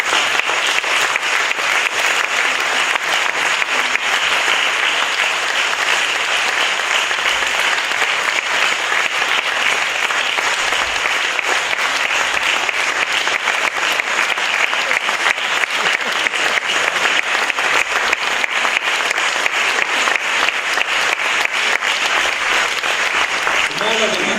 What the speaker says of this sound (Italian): Accogliamoli con l'applauso che meritano il gruppo vocale Farra